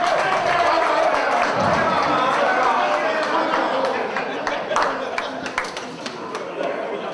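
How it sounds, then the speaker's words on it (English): A class reunion crowd applauds at an annual gathering in Odogbolu, giving a sustained wash of clapping with chatter and voices mixed in, fading slightly toward the end. "Let's give a round of applause."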